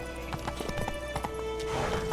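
Horse hooves pounding in a steady galloping clip-clop rhythm in The Witcher 3: Wild Hunt, close and continuous over a game ambience, with a faint whinny-like tone.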